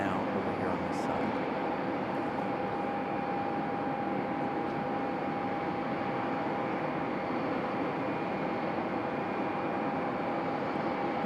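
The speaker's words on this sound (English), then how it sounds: "This one a Cessna 560 XL Citation XLS. Arriving now over here on this side." Cessna 560 XL Citation XLS business jet arriving at Raleigh-Durham airport, heard as a continuous distant jet rumble with a thin steady whine, even in level and without a clear peak.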